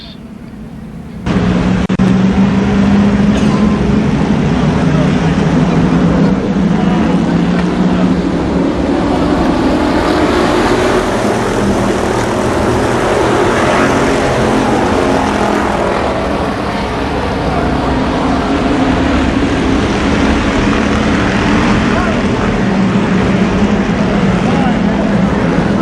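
Race cars run laps at Columbus Motor Speedway during a 1993 Firecracker Championship event, a steady loud roar of engines that carries on without a break, with talk heard over it.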